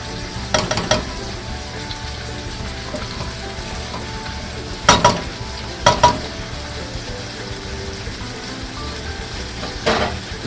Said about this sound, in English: we're going to add 3 tablespoons of butter